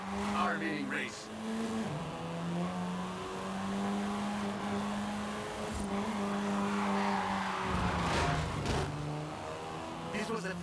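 A Volkswagen Golf R, the 7th-generation Golf, drives in the game Forza Horizon 5, its engine droning and revving through gear changes, with tire noise beneath steady narration.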